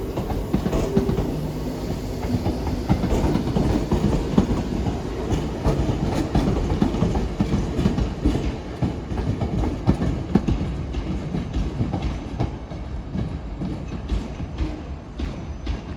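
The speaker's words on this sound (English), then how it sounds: "departing out now is the Scotrail service starting here at Glasgow Central, going to Newton" A Scotrail class 320 electric train pulls out of Glasgow Central, its steady rumble and rail clatter holding loud and close throughout with no voices.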